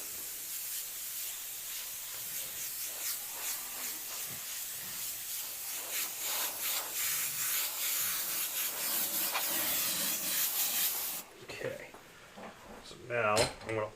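An Iwata Custom Micron airbrush sprays paint in a steady, close hiss with soft rubbing sounds, broken by short pauses as the spray stops and restarts near the end; a voice talks quietly in the background.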